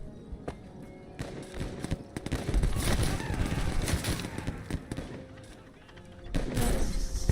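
Gunfire in a video game, shooting at a running target, crackles in loud, dense bursts and scattered single shots over a busy, noisy background with hoofbeat-like thumps.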